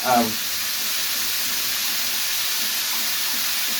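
Continuous hiss of chicken sizzling in a pan, fairly close and steady, after a brief louder sound at the start.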